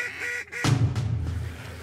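A wild duck or goose on the Missouri River gives nasal honking calls, a few repeated cries followed by a louder close burst of low honks.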